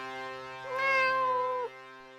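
A cat meows once, a clear drawn-out call that rises and holds for about a second, close and fairly loud over a steady background hum.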